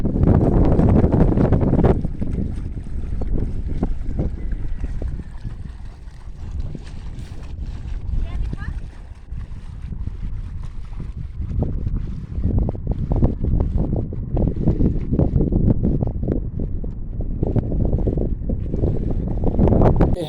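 A sailing dinghy used as a sailboat tender moves under sail, with steady wind buffeting the microphone and low water rushing and slapping along the hull throughout.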